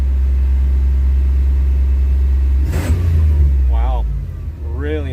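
A truck engine fed by a lawn mower fuel pump rumbles low and loud, then gives a sharp rev partway through and two shorter rising revs near the end, with a voice briefly over it.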